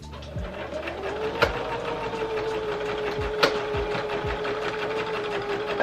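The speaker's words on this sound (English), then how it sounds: "just put your machine on a straight stitch and stitch along the line" A sewing machine runs a straight stitch along a line on fabric for an off-shoulder top, giving a steady close mechanical whir with light rhythmic ticking and a couple of sharp knocks.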